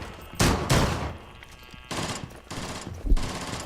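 Gunfire rattles in the Rainbow Six Siege video game, with several bursts of rapid automatic fire at close range separated by short lulls, and with no talking.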